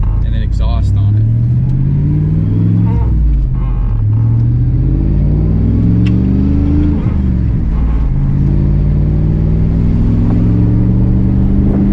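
A manual V8 truck engine rumbles loudly through its exhaust, its pitch climbing and falling across several revs in a constant, close, heavy drone.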